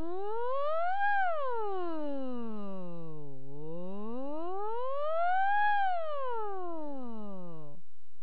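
A sung vowel slides smoothly up to a high pitch and back down twice, imitating a siren's rising and falling wail.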